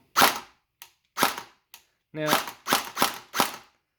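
An Alpha King gel blaster fires in bursts on full auto, sharp close snapping shots in several quick clusters separated by short pauses.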